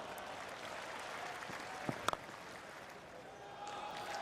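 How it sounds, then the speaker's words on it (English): A cricket crowd at the 2005 Ashes claps in a steady, distant patter of applause, with a few sharper claps standing out and a soft murmur beneath. "You can hear more of the claps than you can hear screams or shouting."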